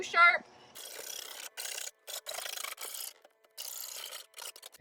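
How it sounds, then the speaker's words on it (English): A metal file rasps along the freshly cut sheet-metal edges of a van roof opening for a MaxxAir roof fan, in close, repeated scraping strokes with short pauses, after a brief high squeak at the start. "take a metal file and clean up these edges just to make sure it's not too sharp"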